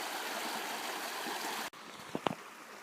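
Creek water flowing steadily on a hike, a continuous broadband rush filling the first part, then cut to a quieter stretch of flowing water with a few brief splashes or knocks.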